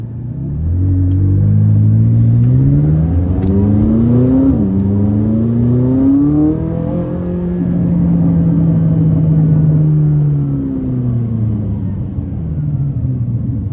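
A 2017 McLaren 570S sports car engine in track mode revs and accelerates loudly and close, its pitch climbing through gear shifts before easing back into a deep, steady rumble.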